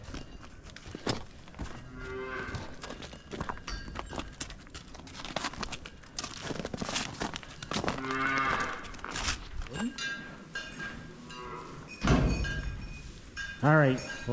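Cattle moo repeatedly inside a barn on a winter evening, with hooves shuffling and clopping on the floor and a person talking now and then in between.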